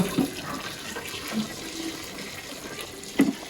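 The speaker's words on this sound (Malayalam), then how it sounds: "തിളച്ച വെള്ളം ഇവിടെ ഉണ്ട് തിളപ്പിച്ച വെള്ളം നമുക്ക് പാർന്നു കൊടുക്കട്ടോ" Boiling water is poured into a pot of spiced kabsa base, giving a steady, moderately loud watery rush and gurgle with a couple of brief splashy bumps.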